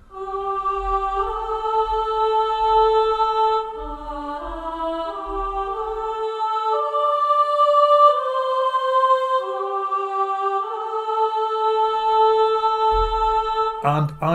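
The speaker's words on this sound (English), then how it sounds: "I really just wanted a soprano voice, just a sort of soaring soprano voice" A soaring sampled soprano voice from a choir library sings a slow, sustained melody of long held notes, with a low pad underneath that drops out midway and returns near the end.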